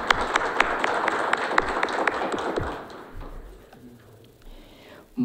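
Sparse, crisp clapping from a small audience at a ceremony honouring waiters, even and close for a few seconds before it thins out and fades to quiet.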